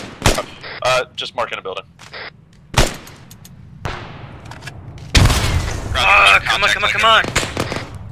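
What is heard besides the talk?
gunfire in the video game ArmA 3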